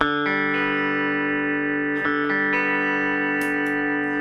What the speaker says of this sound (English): You got all the response of that tremolo, and the louder you play, the harder you play, the more intensity you get out of that.